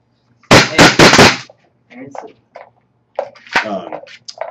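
An airsoft SMG fires a short full-auto burst of sharp, rapid pops close by, followed by people talking.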